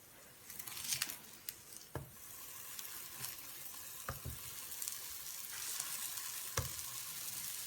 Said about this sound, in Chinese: 电饼铛预热，抹少许的底油，放入饼坯， 盖上盖子，烙制2分钟。